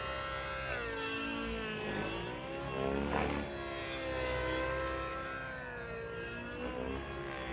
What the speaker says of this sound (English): Bert's gonna fly the Bert Kemmer Edition Tron Nitron Nitro helicopter